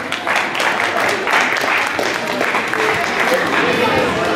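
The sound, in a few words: audience applause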